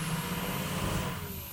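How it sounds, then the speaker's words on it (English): Ford F250 truck with the 6.0L diesel running up close, a steady broadband engine drone with a thin high whistle of turbo spool above it, continuous and loud throughout. "This truck is like all turbo noise."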